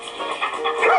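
A dog in a TV commercial gives a short yipping bark and whimper, brief and fairly close, partly under a voice talking.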